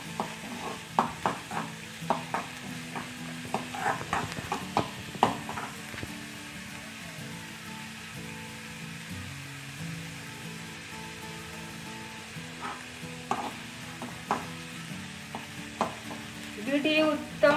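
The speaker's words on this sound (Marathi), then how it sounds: "कांदा हे छान असा ब्राऊन कलर येईपर्यंत परतून घेऊ" Chopped onions sautéing in a pan for a beet-leaf bhaji, with steady low sizzling and frequent clinks and scrapes of a spatula stirring, close and fairly even throughout.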